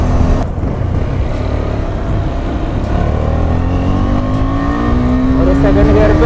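KTM Adventure 250 BS6 motorcycle engine droning steadily while being ridden on a road, with a rising whine as it accelerates through the gears, loud and continuous under wind noise.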